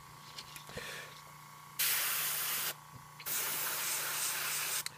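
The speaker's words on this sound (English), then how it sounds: "Yeah, now we're spraying it again." An airbrush sprays paint onto a Hive Tyrant miniature in two steady hissing bursts, each lasting over a second, close and loud, separated by a short pause with faint background noise.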